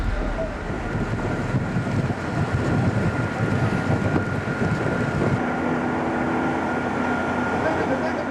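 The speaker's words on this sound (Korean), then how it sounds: "대화퇴 해역에서 조업 중인 우리 어선을 만났다" A fishing boat working at sea in the Daehwatoe fishing grounds, a loud steady engine and hull rumble mixed with gusty wind buffeting the microphone, continuous throughout.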